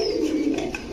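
A pigeon gives one close, soft, low coo that lasts about a second, with no other sound.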